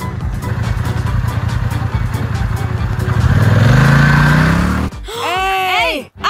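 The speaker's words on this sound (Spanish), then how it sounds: "¡Es una moto de policía!" Police motorcycle engine in a children's cartoon, revving and rising in pitch as it speeds past, then cutting off abruptly before cartoonish whooping sounds and brief voices.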